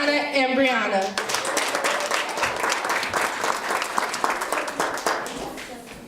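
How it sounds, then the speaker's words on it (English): A voice is heard briefly before an audience at a youth business presentation breaks into a round of applause, with steady, dense clapping of many hands continuing to the end. "so let's give a round of applause for Tatiana and Brianna"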